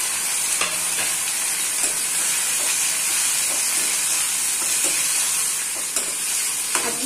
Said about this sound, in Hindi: 2 से 3 मिनट तक हमें पका लेना है, जब तक कि टमाटर गल नहीं जाते